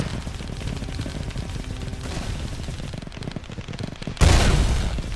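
A flak cannon fires in a space battle video game, sounding as dense rapid bursts of gunfire that hold for several seconds, then jump to a louder, heavier blast near the end.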